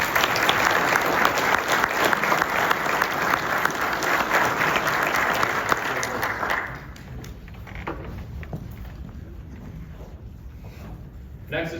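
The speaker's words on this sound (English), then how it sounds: "A round of applause for Detective Kless." Applause at a Kenosha County Sheriff's Office awards and promotions ceremony, a dense burst of clapping from a crowd in a hall that continues loudly for several seconds, then thins abruptly into scattered fading claps.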